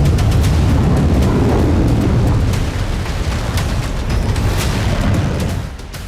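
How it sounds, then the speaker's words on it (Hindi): A missile strike, a Khaibar Shekan missile with a 550 kg warhead hitting buildings in Haifa port city, gives a heavy, sustained rumbling boom with crackling debris that stays loud for about five seconds before easing off. "खैबर शेकन मिसाइल से हाइफा पोर्ट सिटी की इमारतों को जमींदोज कर दिया।"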